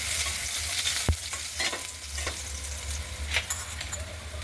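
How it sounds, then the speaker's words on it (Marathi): Crushed garlic frying in hot oil in a pan with crackled mustard seeds and cumin, a steady close sizzle broken by stirring scrapes and a sharp clink near the start, with no voices. "लसण छान लाल कलर येईपर्यंत भाजून घ्यायचा"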